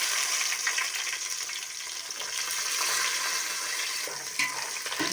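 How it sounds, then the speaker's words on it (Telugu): Chopped onions sizzle and crackle in hot oil for green chicken biryani, a steady close hiss with occasional stirring scrapes and small pops, and no talking. "కట్ చేసిన ఎర్రగడ్డలు ఇందులో వేసుకోవాలి"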